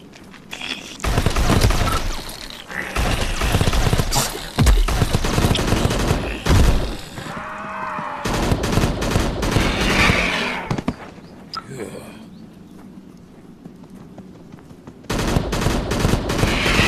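Rapid bursts of gunfire from a gun in the VR shooter Crashland, played on a Meta Quest, loud clustered shots in several volleys with short pauses between, interspersed with brief quiet gaps.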